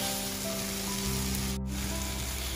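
Tomatoes sauté in a hot pan, a steady close hiss and sizzle with soft scraping, continuous throughout.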